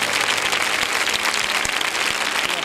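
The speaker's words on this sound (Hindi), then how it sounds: "भाई मुजीद के लिए जोरदार तालियां बजा दे." Loud, sustained applause from a church congregation during a healing service, dense steady clapping filling the whole stretch with no speech over it.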